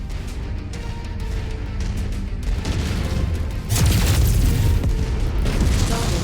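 Video game vehicle destroyed in a heavy, booming explosion that swells into a louder crashing roar midway amid dense battle rumble.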